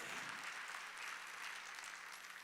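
A church congregation at a Wednesday worship service claps together in a faint, distant, steady wash of applause that holds evenly for a couple of seconds without any voices.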